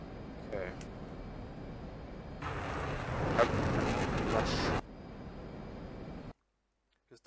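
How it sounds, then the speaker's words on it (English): An F/A-18 Hornet jet with afterburner engaged in a flight simulator game roars as a broad, steady rush for a couple of seconds, then drops to a quieter hum before cutting to silence. "Just afterburner the whole time."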